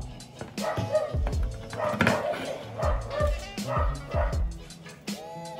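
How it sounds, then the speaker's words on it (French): Several dogs bark and yip repeatedly, close by, in overlapping bursts with a few whimpering yelps mixed in. "si vous entendez des chiens aboyer, c'est normal."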